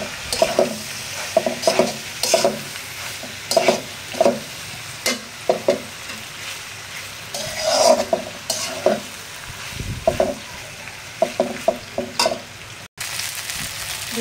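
Boiled pasta being stirred and fried in a pan: a rhythmic series of close spatula scrapes and clacks over a continuous sizzle, loud and repetitive with no voices.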